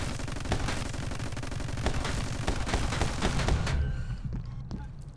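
Rapid gunfire from the My Friend Pedro video game, dense overlapping shots and bursts crackling continuously at high volume, then cutting off abruptly near the end with a few scattered echoing shots.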